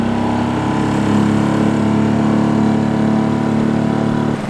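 Outboard engine on a new boat running steadily as it sets off, a constant close, loud drone with a low hum, the sound cutting away at the very end.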